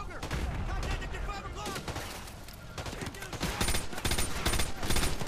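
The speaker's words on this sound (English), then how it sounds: "Oh, this is burst fire." Rapid burst-fire gunfire in Call of Duty: Modern Warfare 2 Remastered, dense and loud short bursts, continuing steadily with clattering shots throughout.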